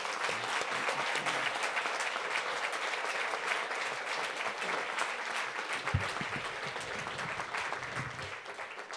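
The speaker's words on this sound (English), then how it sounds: "let's give these winners one last round of" A crowd in a hall claps steadily for scholarship winners at a broadcasting awards event, dense sustained applause heard from amid the audience at moderate level with no talking.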